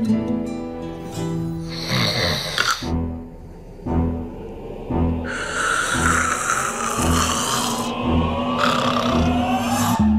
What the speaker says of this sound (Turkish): Rahat rahat geniş geniş horlayıyorsun ha?